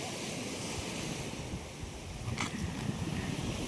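Sea waves washing onto the shore at Velas on the Konkan coast during a fishing trip, a steady broadband surf wash with gusty wind noise across the microphone, continuous and fairly close, with a slight swell toward the end.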